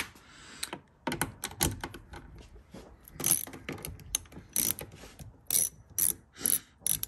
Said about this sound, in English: This ratchet has a neat little knurled handle where you can just wind up and install and remove nuts with just your thumb.